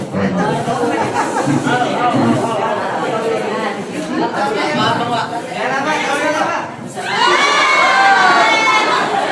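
A classroom full of children shouting and cheering together, a dense, loud crowd of young voices that stays steady throughout and surges even louder near the end.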